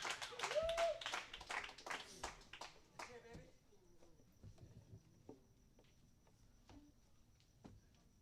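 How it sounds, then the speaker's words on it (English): Audience applause greets a violinist at a live performance, a burst of claps for the first few seconds that quickly thins out and fades as people talk over it. "Big round of applause for Emer on the violin."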